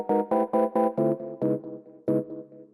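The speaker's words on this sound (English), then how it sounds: "In the second part of the drop there is this plucky chord coming in," A plucky chord synth from the Serum preset Chord Stable, in a UK garage drop, strikes a run of short bright chord stabs in quick rhythm, then a couple of spaced hits, each decaying fast, alone.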